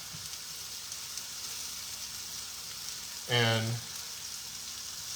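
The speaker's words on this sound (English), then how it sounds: "So basically, we are pan frying these" Pork medallions pan frying in a pan: a steady sizzle runs throughout, with a brief word spoken partway through.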